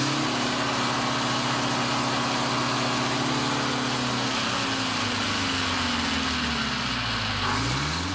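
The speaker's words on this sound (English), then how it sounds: "This one has a 4-cylinder General Motors diesel." A General Motors 71 series four-cylinder diesel bus engine idles loudly and close, a dense steady rumble with a throbbing low tone that dips and shifts in pitch near the end.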